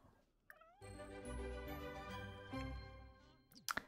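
Cat in The Sims 4 video game giving a drawn-out, tonal meow, faint and alone, followed by a few short game clicks and chimes.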